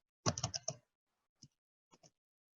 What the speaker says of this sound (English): You can see my terrible typing here.